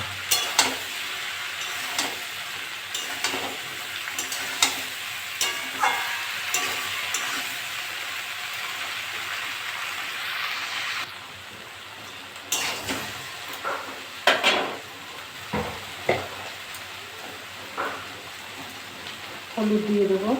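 Taro stolons and prawns fry in a pan, broadband sizzling broken by repeated sharp stirring scrapes and clatters of the utensil, with a brief quieter pause midway, heard close up without talk.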